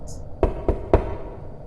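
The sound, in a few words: knocking on a door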